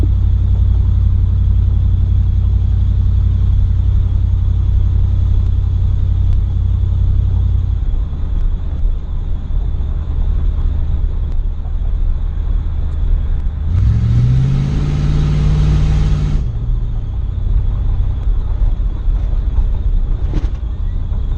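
A 350 TBI V8 engine rumbles loudly at idle, then settles lower before one strong rev swells and falls back to a steady idle.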